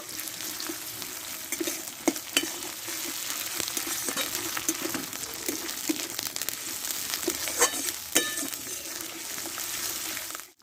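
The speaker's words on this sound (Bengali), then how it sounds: "এবার এতে দিয়ে দেবো একটা টমেটো আর এখানে দেবো হাফ চামচ মতো আদা বাটা দিয়ে একসঙ্গে কষে নেব" Onion, tomato and ginger paste sauté in a pan for a Bengali-style potol dish, giving a steady, close sizzle and crackle with occasional scrapes and clinks of a stirring spoon throughout.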